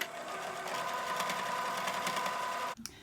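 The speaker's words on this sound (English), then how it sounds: "I'm going to do a regular straight stitch as close to the edge as I can get." Sewing machine top-stitching fabric squares onto a teal backing with a straight stitch, a steady, fast mechanical whir and rapid needle chatter running close by, then stopping abruptly near the end.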